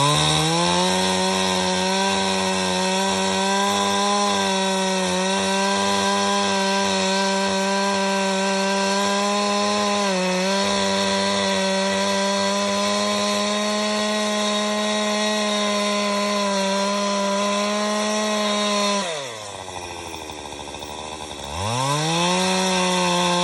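A chainsaw cuts wood to make sawdust for cold smoking mackerel in Maine, running loud and close with a steady high whine for about nineteen seconds. Near the end the engine dips sharply, then climbs back to full speed.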